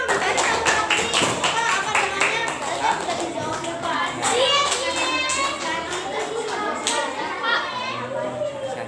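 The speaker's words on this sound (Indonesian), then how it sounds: "oke, tepuk tangan untuk semuanya." Primary schoolchildren in a classroom clap for everyone, a sustained, lively round of hand claps under excited children's chatter and shouts, steady and fairly loud throughout.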